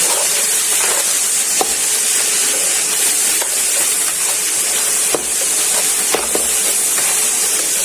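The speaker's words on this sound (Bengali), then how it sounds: "এখন মরিচে ভেজে নিচ্ছি।" Chilies fry in hot oil in a pan while boal fish bhuna is being cooked, a loud, continuous close sizzle with occasional sharp stirring clicks and no talk.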